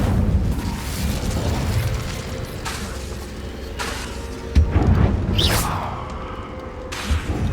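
The Incendio fire spell in Hogwarts Legacy bursts out in booming blasts with a whooshing flare, set against a busy rumbling background of combat noise.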